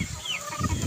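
Stags and other chickens cluck in a backyard poultry pen, a short burst of close fowl calls over a low ambient background.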